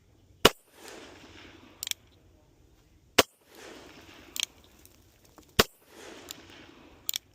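A Taurus Judge shotgun revolver fires three loud, sharp shots outdoors, spaced a few seconds apart, each followed by a rolling echo and a smaller distant crack or impact.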